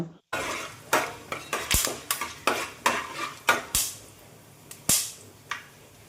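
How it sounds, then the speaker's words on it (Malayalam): Whole spices and black pepper fry in hot coconut oil for a Kerala-style chicken stew, with close, sharp pops and crackles over a pan being stirred and scraped with a utensil. "ഇനി വെളിച്ചെണ്ണ നന്നായിട്ടും ചൂടായതിന് ശേഷം ഇതിലേക്ക് നമ്മൾ എടുത്ത് വെച്ചിട്ടുള്ള സ്പൈസസും പിന്നെ കുരുമുളകും കൂടി ഇട്ടിട്ട് നന്നായിട്ടൊന്ന് മൂപ്പിച്ചിട്ടെടുക്കുക"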